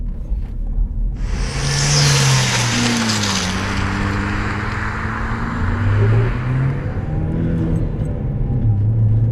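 2013 Hyundai Genesis Coupe 2.0T R-Spec engine revving loudly nearby, a sharp rise to high revs followed by a sustained, wavering drone as the pitch climbs and falls.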